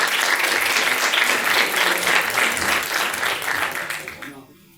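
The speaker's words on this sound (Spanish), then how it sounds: "así que con un aplauso los recibimos." An audience in Buenos Aires claps loudly for a speaker, a full round of applause that swells, then fades out over the final second.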